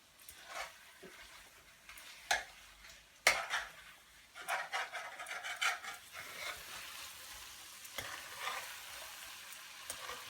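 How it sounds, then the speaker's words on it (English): Vegetable curry is stirred in a pan, its faint sizzle broken by utensil scrapes and knocks against the metal, some sharp and some soft, over roughly ten seconds. "So we're going to give that a good stir."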